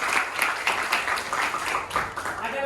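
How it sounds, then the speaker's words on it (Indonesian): A short burst of classroom clapping from students, with a few distinct hand claps standing out in a brief, moderately loud patter, and a voice briefly heard alongside. "ayah beri tepuk tangan dulu"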